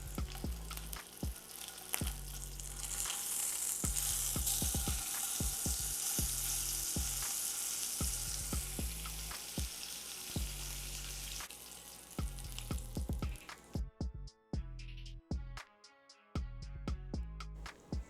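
A thin A5 wagyu steak sears in a hot pan, giving a loud, steady sizzle that swells in the middle. Near the end come sharper crackles and pops, then a brief near-silence before the spitting resumes.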